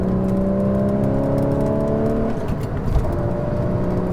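A manual car's engine blips during heel-toe downshifts through the gears, a steady droning engine note followed by a short rev burst and a shift in pitch, loud and close with no talking.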